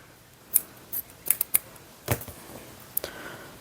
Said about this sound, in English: So now I'm going to cut this again.